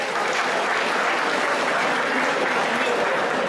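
Warm applause from a crowd at a Sarakatsani cultural association's summer dance evening in Greece, honouring the dance teacher; dense, steady clapping that fills the whole stretch without a break.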